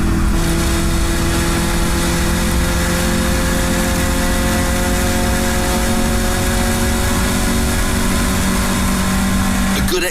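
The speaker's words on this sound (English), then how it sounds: "A good exit from Gerrard's into the slipstream and neatly past Mark Williams into the S's" Caterham race cars accelerate hard out of a corner at the Knockhill circuit, a steady loud engine roar with rising revs lasting throughout, with commentary talking over it.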